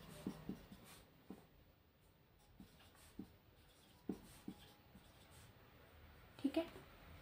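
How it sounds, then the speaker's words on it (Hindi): Marker or chalk strokes writing a multiplication table on a board, with soft scratches and taps spaced out, several sharper strokes near the end, under faint room noise. "मैं टेबल लिख भी देती हूँ यहाँ पे"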